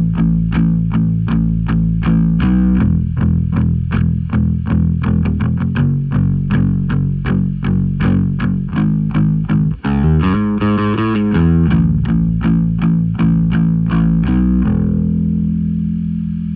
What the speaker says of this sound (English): Here's what it sounds like during the chorus when I'm palm muting and just have the distortion on